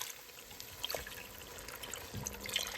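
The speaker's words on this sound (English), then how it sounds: "We're gonna add 3 cups of beef broth." Beef broth pours into a pot roast mixture in a soft, faint steady trickle with a few light splashes, close by and continuous for a few seconds.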